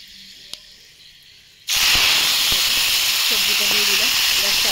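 Vegetables (spinach, brinjal, potato) tipped into a wok of hot oil tempered with five-spice seeds burst into a loud, steady hiss after a quiet start, holding strong and even to the end while a voice speaks underneath.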